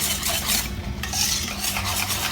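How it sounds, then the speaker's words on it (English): Banana bread batter with honey and nuts is stirred in a bowl, making a steady, thick, wet churning with rhythmic scraping, loud and close with no voices. "Just give that a good mix."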